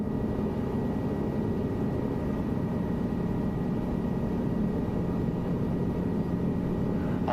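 A simulated helicopter holds a steady hover over its takeoff spot in Microsoft Flight Simulator 2024, a constant low rotor and engine drone with an even, unbroken hum throughout.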